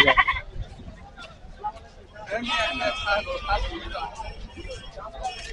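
Several goats bleat repeatedly, some close and some farther off, over a busy background of crowd chatter and voices at a livestock market.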